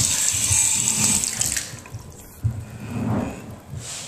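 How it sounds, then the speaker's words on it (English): A brand new bathtub faucet runs water in a renovated bathroom with a new shower diverter, a steady close splashing stream that shifts in tone as the flow changes. "Running water."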